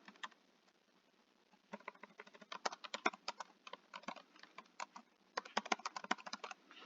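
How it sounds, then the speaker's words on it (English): Fingers type on a computer keyboard in quick, uneven bursts of clicks, sparse at first and then busier, close and fairly quiet. "So I'm just going to type"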